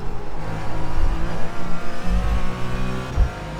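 A race car engine in the iRacing sim roars loudly through a series of throttle stabs, rising and dipping in repeated revving bursts close up.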